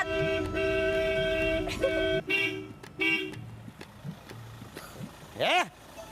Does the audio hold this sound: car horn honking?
yes